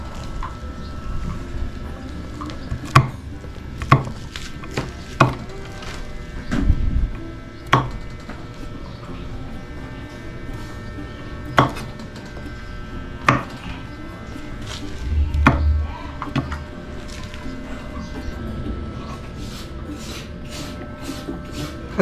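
A knife chops fresh string beans (sitaw) on a board in a series of sharp, crisp cuts, sometimes single and sometimes in quick pairs, spaced unevenly over a quiet kitchen background.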